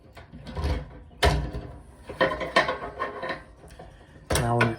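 Clamp being tightened onto a copper still body, a close series of short metallic clanks and scraping clicks, several bursts spread irregularly across the moment with quiet gaps between.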